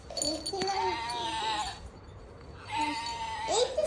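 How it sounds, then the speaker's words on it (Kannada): A ram bleating in two drawn-out, wavering calls, the first longer and the second rising near the end, heard close and fairly clear with no talking. "ಏ ಕುರಿ, ಏ ಟಗರು"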